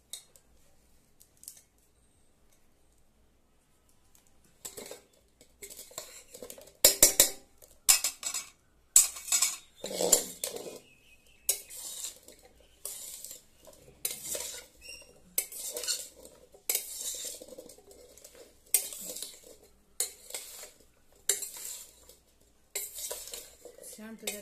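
Raw mango pickle stirred together with spices in a bowl, heard as a long run of close, rhythmic clinks and scrapes of a spoon against the dish, faint at first and then steady and louder.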